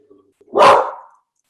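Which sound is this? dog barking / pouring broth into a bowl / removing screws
dog barking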